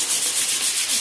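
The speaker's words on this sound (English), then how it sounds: "I've got some 400 grit sandpaper here" Rhythmic strokes of 400 grit sandpaper across gel coat on a caravan storage box make a steady, close, raspy hiss pulsing about five times in a second, with no talking.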